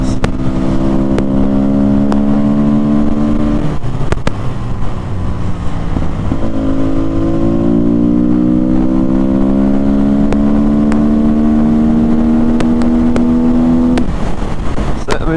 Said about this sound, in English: I think this bike does rev round quite a bit as well actually